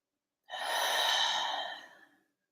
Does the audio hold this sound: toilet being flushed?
no